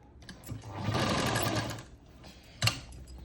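A sewing machine stitches the sleeve of an aari work blouse in one sustained whirring run, goes quiet, then gives a short sharp burst near the end.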